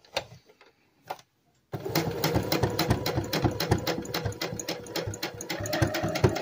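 A sewing machine stitches a small punch needle pillow, starting with a few isolated clicks and then running steadily with a fast, even mechanical rattle for several seconds, close and fairly loud.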